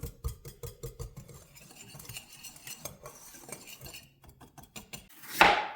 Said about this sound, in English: And then I'm just gonna whisk it. Get all the lumps out.